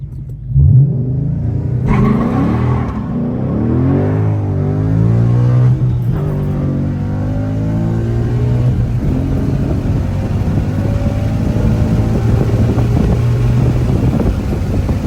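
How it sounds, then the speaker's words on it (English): A Ford Mustang GT fitted with a Cobra Jet intake manifold revs hard through a first gear pull, its loud exhaust rising in pitch and roaring continuously at close range for the whole stretch. "I want to do like a first gear pull"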